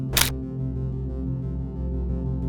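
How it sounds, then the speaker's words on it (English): Camera shutter fires once, a crisp close click at the very start, followed by a steady low background hum with nothing else. "Pushing the shutter is the moment the image is recorded."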